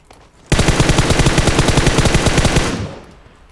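Automatic gunfire in PUBG Mobile erupts as one loud, rapid burst lasting about two seconds, each shot distinct in a fast even rhythm, then trails off into a short decay.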